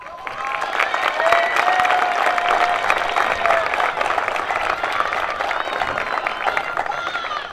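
A graduation crowd at Highland Community College's 2022 ceremony claps and cheers for the speaker, dense sustained applause with scattered whoops and voices throughout.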